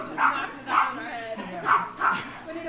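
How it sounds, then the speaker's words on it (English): Several dogs barking and yipping indoors in four sharp bursts, loud and close, with a person talking over them. "Apparently the dogs have a story."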